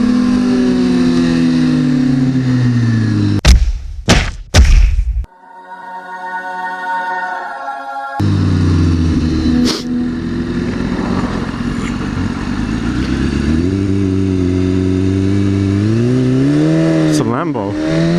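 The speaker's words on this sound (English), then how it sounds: "It's a Lambo." A blacked-out Lamborghini Aventador's engine revs loudly nearby, with a sharp blip and a brief drop-off before the engine note climbs again in rising sweeps; people talk over parts of it.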